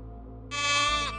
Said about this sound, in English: Why are there so many goats in this tree?